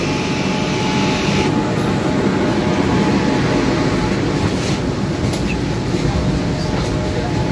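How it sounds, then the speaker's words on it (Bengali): A Howrah metro train stands at the platform, its steady rumble and hum filling the space loudly and continuously, with a brief brighter hiss partway through. "আমাদের ট্রেন কিন্তু মেট্রো ট্রেন দাঁড়িয়ে রয়েছে"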